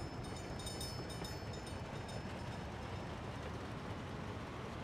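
A coal train pulls away in the rail-building game Workers & Resources: Soviet Republic, a steady dense rumble of wheels and engine that holds an even loudness throughout with no one talking.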